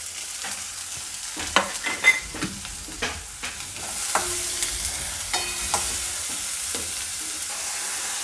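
Onions and mixed vegetables sauté in a pan, a steady sizzle under repeated spoon scrapes and taps, close and moderately loud, with no voices.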